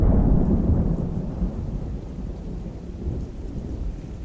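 A heavy rain downpour roars continuously and loudly, with deep rumbling thunder at its strongest at the start and fading slightly, and no voices.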